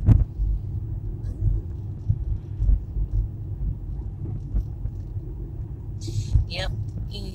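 A car rolls through a residential neighborhood, its low engine rumble and road noise steady and close, with people talking over it.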